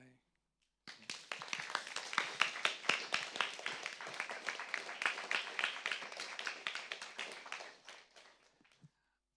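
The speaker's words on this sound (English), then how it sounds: "We can all give a round of applause to Liang-Kai." A small audience claps after a presentation at a participant session, starting abruptly and fading out toward the end, with a fairly sparse, close clapping texture.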